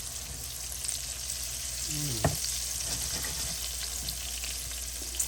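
Long whiting fish deep fry with a dense, constant hiss and bubbling, steady and fairly loud, with a brief tonal squeak near the middle.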